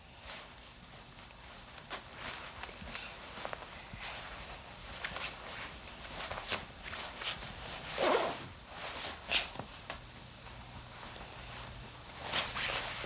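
Clothing zipper worked in short, scratchy rasps amid rustling fabric and soft shuffling, with a few louder zips near the middle and end, quiet and close.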